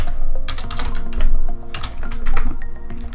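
Rapid, continuous clatter of computer keys as code is typed, dense and close with a few heavier key strikes, no voices.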